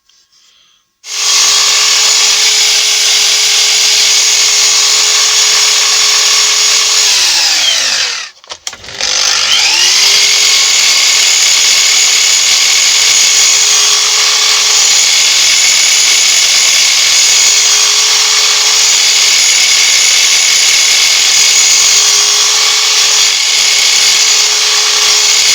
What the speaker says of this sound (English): Cut it out with jigsaw and then cleaned it up with router.